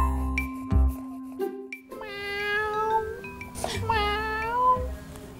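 A cat meows several times in drawn-out, wavering cries, close by, with a short voice and a faint ding in between.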